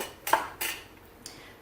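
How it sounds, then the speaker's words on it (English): Plastic blender jar being taken apart for cleaning, with three short clattering knocks as the screw band, blade assembly and rubber gasket come loose, close up and alone. "we want to make sure that we know how to take this blender jar apart"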